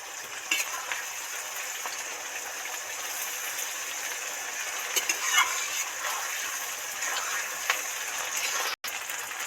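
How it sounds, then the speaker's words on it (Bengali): Tomato and grated onion frying in hot oil for a mutton curry, a continuous moderate sizzle with occasional clicks and scrapes of stirring, briefly cutting out near the end. "এবার তেলের মধ্যে টমেটো আর গ্রেট করা পেঁয়াজটা দিয়ে দেব"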